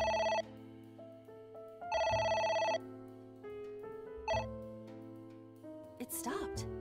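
A telephone rings repeatedly in the detective adventure game AI: The Somnium Files, loud electronic bell bursts with pauses between them, ending with brief rustling noise.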